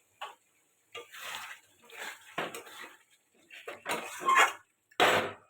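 A lid set onto a pan of chicken cooking over lowered heat, giving several separate metallic clinks and clatters of cookware, each short and close, with quiet gaps between them.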